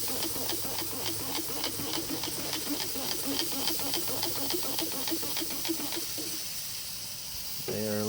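Beef ribs on a MasterBuilt 560 grill being spritzed, a steady hiss of spray mixed with sizzling that runs for several seconds, then quiets near the end.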